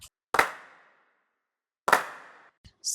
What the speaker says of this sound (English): I also layered in a bunch of claps together.